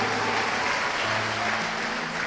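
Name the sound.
congregation applause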